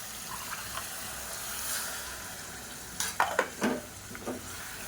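Curry with coconut paste, poppy seeds and water being stirred in a cooker pot, a soft bubbling sizzle underneath, then a quick run of close, wet scraping stirs near the end, with no talking.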